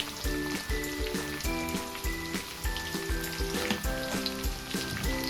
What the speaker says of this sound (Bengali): পেঁয়াজটা একটু লাল লাল করে ভাজা হয়ে গেলে আমরা ওর মধ্যে দিয়ে দেবো কেটে রাখা টমেটো